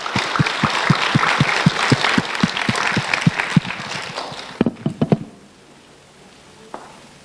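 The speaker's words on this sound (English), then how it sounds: "Please give a warm round of applause to Nicole Chow for receiving the CYC award." Audience at a youth competition award ceremony in Toronto clapping in a dense burst that thins to a few scattered claps and then fades into near silence.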